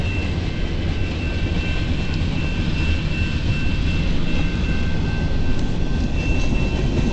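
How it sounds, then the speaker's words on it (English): A long CN eastbound mixed freight train hauled by three locomotives rolls past, a continuous dense roar of wheels and cars that stays loud and steady with no talking. "Damn, it's a long train."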